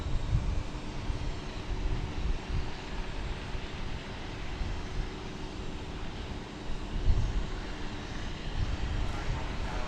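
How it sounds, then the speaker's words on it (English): An American Airlines Boeing 737-800 approaching touchdown at DFW Airport gives a steady, moderately distant jet roar with a broad rumbling wash and gentle swells, and no talk over it. "We've got American Airlines flight 1800 just about to touch down from Greenville, Spartanburg. It will be a 737-800."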